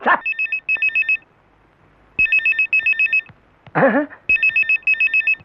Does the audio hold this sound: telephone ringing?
yes